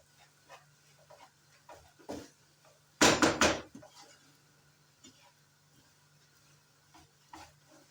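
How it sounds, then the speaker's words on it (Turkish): Semolina roasts in a pan for cocoa semolina halva while a utensil scrapes and stirs it, with one loud, rough burst of scraping midway and softer, scattered stirring noises before and after. "her tarafından karıştıralım. Eşit şekilde kavrulsun."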